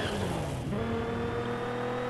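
Simulated car engine from the Gear Club racing video game holding a steady tone through a turn, with a pitch shift partway as the car comes around, loud and continuous with faint tire noise and no talk.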